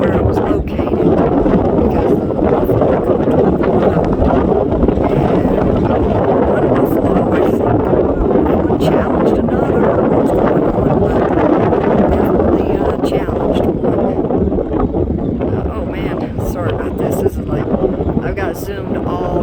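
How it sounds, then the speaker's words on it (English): Strong wind at Wind Cave National Park in South Dakota buffets the microphone in heavy, continuous low rumbling gusts, loud and close throughout, with a voice faintly mixed in. "The wind's really blowing."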